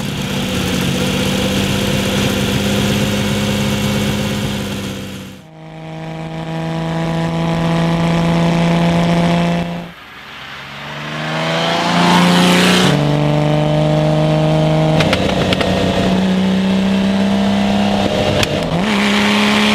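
A Lamborghini Miura engine idles with a loud, steady, close drone, then revs up and drops back several times, its pitch rising and settling with each blip. No one speaks.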